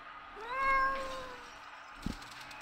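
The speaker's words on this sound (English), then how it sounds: "Meow." A cat meows in the video game Sally Face: one clear, drawn-out meow, close and loud, followed by a soft short thump, with no talking.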